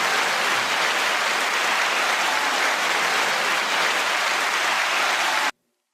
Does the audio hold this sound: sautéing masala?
no